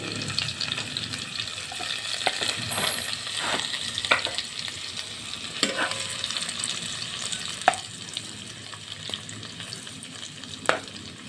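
Garlic frying in a pan for a Filipino dish, with a continuous crackling sizzle broken by scattered spatula scrapes and taps against the pan, close and fairly loud throughout.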